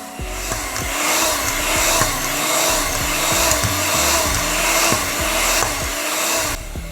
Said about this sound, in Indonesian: Kemudian aku lanjut mixer lagi sampai adonan benar-benar kalis dan elastis.